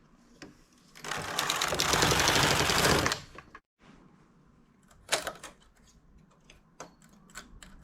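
A knitting machine carriage runs across rows of a ribbed 3x2 scarf, making a dense, loud mechanical whir for about two seconds, then stopping, with scattered clicks and clacks afterward.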